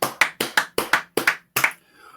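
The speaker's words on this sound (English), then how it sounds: "Let's give him a clap." One person claps nine times in close, sharp pairs with a steady rhythm, loud and near, and then the clapping stops and leaves only quiet room tone.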